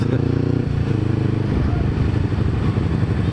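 A red carbureted Kawasaki Ninja motorcycle is ridden through the street, its close engine note steady at first, then breaking into a rougher, pulsing rumble with light clatter.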